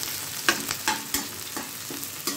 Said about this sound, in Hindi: हरी मिर्च डालूंगी। अब मैं इसके थोड़े थोड़े हल्के ब्राउन करूंगी